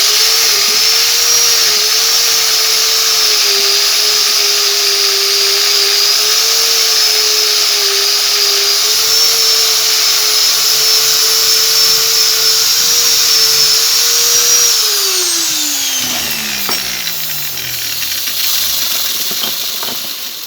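A rotary wire brush spinning steadily against a Bahco 73 adjustable wrench, a loud, continuous whine and hiss that holds for about fifteen seconds before the motor winds down and coasts to a stop.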